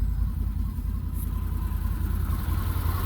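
A 2020 Can-Am Defender Limited Max side-by-side with a cab sits with its engine running, giving a steady, close, low idling rumble that stays even throughout with no voices.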